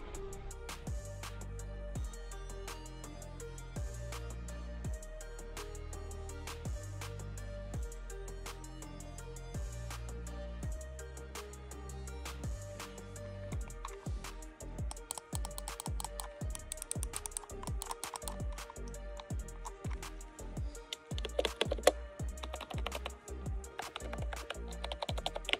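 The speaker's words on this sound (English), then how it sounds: "I also like the clickiness of these keys." Steady clicky typing on a pastel computer keyboard, close up, with rapid crisp keystrokes that start even and grow busier and louder toward the end, no talk.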